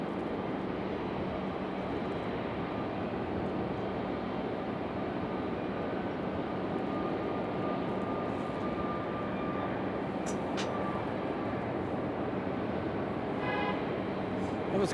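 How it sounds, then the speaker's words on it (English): Southwest Boeing 737 Max 8 jet taxiing at Raleigh-Durham International Airport, a steady broad engine roar holding at a constant level throughout, with faint distant tones and a brief higher whine near the end. "There we go, that Max 8 finally getting moving"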